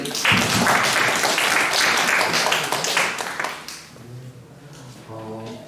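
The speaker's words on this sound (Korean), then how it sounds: "우리 박수 한번 칠까요?" A high school church worship group breaks into loud, dense applause that fades after about three seconds, followed by quieter murmuring and voices.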